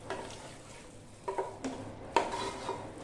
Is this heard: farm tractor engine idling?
no